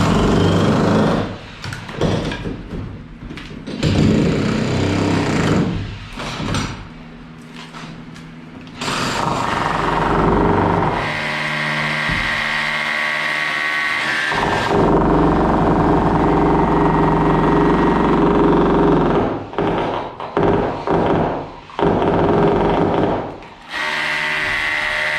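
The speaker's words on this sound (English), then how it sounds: "Don't tell me my brand new DeWalt hammer drill done gave up on me." DeWalt hammer drill running during door installation work, with loud rattling bursts that start and stop repeatedly, broken by short pauses and a longer stretch of quieter, uneven running in the middle.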